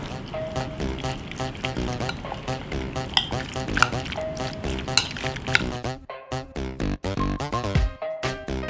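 Chicken and ginger stir fry being mixed in a pan, with steady sizzling and frying under scraping and clinking of a utensil against the pan, plus sharp knocks and stirring strokes throughout.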